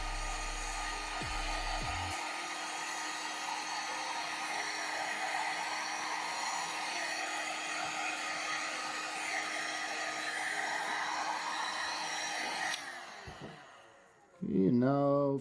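A heat gun shrinks heat shrink tubing onto a wire for a PowerCON connector on a DJ console, blowing a steady loud whirring roar for about twelve seconds before it cuts off, after which someone speaks.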